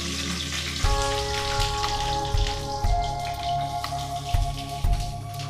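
Long-sliced onions sizzle in hot oil for a Kashmiri mutton laal maas, a steady crackling fry with scattered sharper pops and spits, close and continuous without talk.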